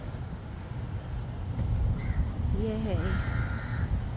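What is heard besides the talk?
crow cawing at Siloso Beach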